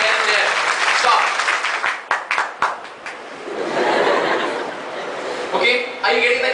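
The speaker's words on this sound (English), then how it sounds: "You have to clap when the word clap comes in." A lecture-hall audience claps along in a word game, a dense burst of applause mixed with chuckles and chatter, then sharp scattered claps, more crowd noise and a final burst of clapping.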